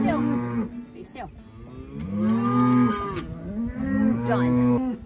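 Cattle mooing on a farm, a series of long, loud lowing calls close by, overlapping one another with a brief gap between them.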